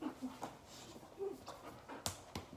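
A dog indoors pants and whimpers close by, with short whines and breathy puffs coming in uneven bursts, plus one sharper yelp near the end.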